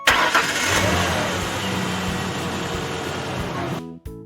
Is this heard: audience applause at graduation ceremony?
no